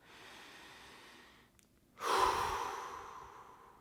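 A large, deep breath in a quiet room: a softer inhale first, a short pause, then a strong, drawn-out exhale, heard alone and close.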